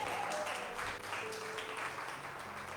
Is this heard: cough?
no